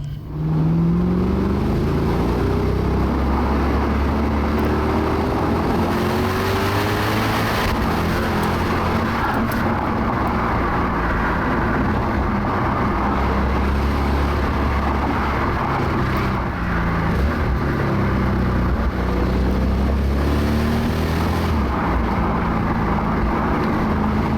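A 2013 Lexus IS F engine accelerating hard in sport mode with manual shifting, loud and close, rising revs repeating in several pulls across the clip with no talking over it.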